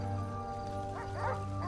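Dog barking in GTA, a few short yelping barks over steady game background hum, with no talk.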